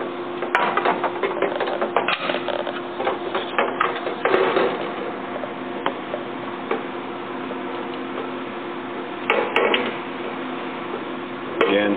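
Screws being started by hand into mounting holes during a CVS nicotine replacement display retrofit, giving scattered small ticking and ratcheting clicks over steady low hum, with a few louder bursts of handling noise.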